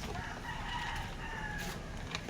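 A junglefowl rooster crows outdoors, its call rising over steady background noise, with a second fainter crow toward the end.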